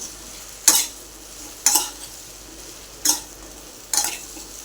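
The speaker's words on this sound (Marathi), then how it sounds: "भेंडी टाकू याच्यामध्ये तेही परतून घेऊया" Okra (bhindi) stir-frying in a pan for a quick home-style vegetable dish: four sharp scraping stirs about a second apart over a faint steady sizzle, close and clear with no talking.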